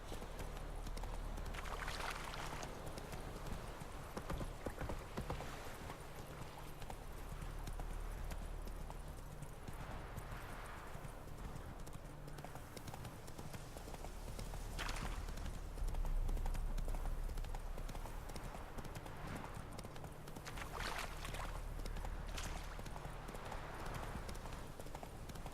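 Hooves clip-clop steadily as the horse Roach gallops in The Witcher 3, a constant rhythmic patter under a dense wash of game music and ambience throughout.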